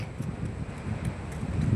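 Steady wind rushes across the microphone with a low, rumbling buffet and faint rustling, no voices.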